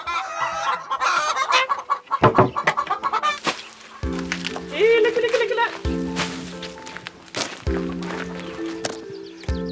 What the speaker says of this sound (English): Araucana chickens.